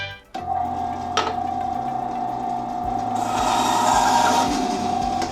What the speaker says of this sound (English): We're gonna cut this piece off. All right, off to the bandsaw.